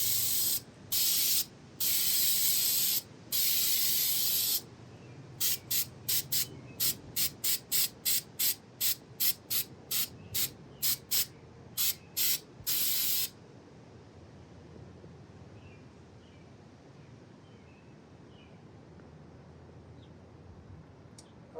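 Spray paint hisses from a can onto a small foam brick outdoors on a windy day, in a run of short bursts and quicker taps that stop partway through, leaving quiet wind and faint background sound.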